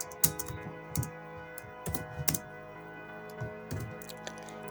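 Bursts of keystrokes as code is typed on a computer keyboard for a Python Celsius-to-Fahrenheit converter, a few quick close clicks in short clusters separated by pauses, over a faint steady hum.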